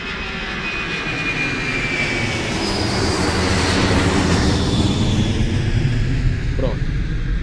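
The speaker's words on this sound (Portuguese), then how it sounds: "se você ouvir esse áudio agora em mono, você vai ver um avião passando" A propeller or jet airplane drones overhead, its engine roar swelling gradually and holding loud as it passes, a continuous rumbling hum.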